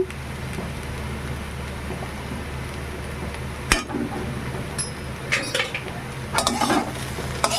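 Cumin and coriander paste stirred into jackfruit frying in oil, a soft steady sizzle under scattered utensil scrapes and clinks that grow busier toward the end, close by, with no talking.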